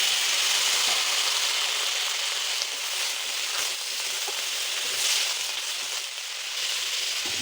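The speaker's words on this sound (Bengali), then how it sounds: "একটু নুন হলুদ দিয়ে আমি আলু আর পটলটাকে আগে একটু ভেজে নেব।" Potatoes and pointed gourd fry in hot oil with salt and turmeric, giving a steady, close sizzle with faint occasional scrapes, no voices.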